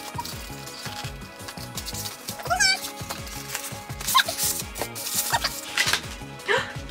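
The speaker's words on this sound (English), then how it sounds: "My cat is rummaging through stuff already." A cat rummages through a small unboxing box, giving scattered rustling and scratching with a few short meow-like chirps, close and moderately loud.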